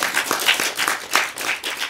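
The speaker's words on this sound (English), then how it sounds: "Yeah, definitely round of applause." An audience at a film screening and Q&A claps in a short, dense burst of applause, close and lively, with no voices over it.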